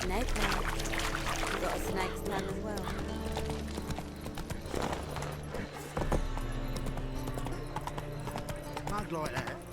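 Roach the horse trots along in The Witcher 3, with rhythmic hoof clops beneath game music and character voices talking over them.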